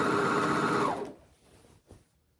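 A sewing machine runs a shorter stitch line back over a seam on valance fabric, a steady close whirring for about a second that stops abruptly, followed by a couple of faint clicks.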